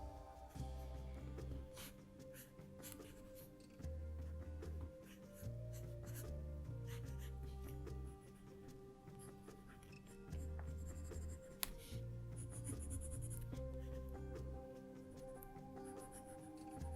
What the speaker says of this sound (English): this is super fun to wet the paper and then sketch on top